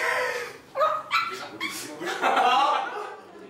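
A small dog, the canine guest arriving for a meal, lets out a few quick yips and barks with whimpering in between, close and moderately loud.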